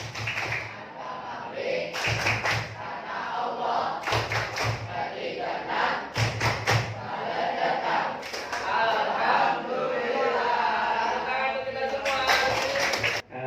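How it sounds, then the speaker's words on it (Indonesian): Classroom of students doing the rhythmic clapping ice-breaker game tepuk ikhlas, several bursts of sharp unison claps set among group chanting voices, loud and near. "Ice breaking tepuk ikhlas."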